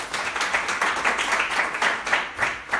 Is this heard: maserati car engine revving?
no